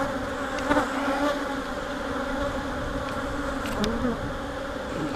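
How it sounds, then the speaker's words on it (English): Honeybees swarm and buzz densely around an opened hive during an inspection, their steady drone close and continuous, with individual bees whizzing past. "This hive's never been this aggressive."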